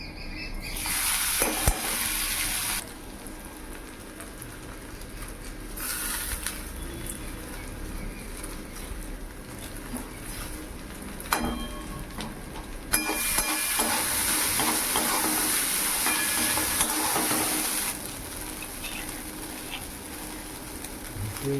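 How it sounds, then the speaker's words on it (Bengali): Whole garam masala, ginger and washed flattened rice fry in oil in a wok, giving a steady sizzle with bursts of hissing and stirring scrapes throughout, loud and close with no talk. "তো দেখো ওই যে কড়াইতে তেল দিয়ে দিলাম আর ফোড়নে দিলাম গোটা গরম মশলা আর একটু আদা দিয়ে দিলাম"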